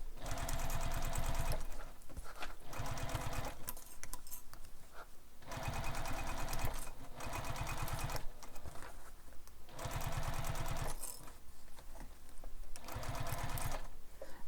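A sewing machine stitches the gusset of a handbag in several loud, rapid bursts of mechanical chatter, each run separated by short pauses.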